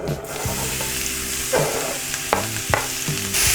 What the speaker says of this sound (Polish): Pokrojoną cebulę przekładam na mocno rozgrzany tłuszcz.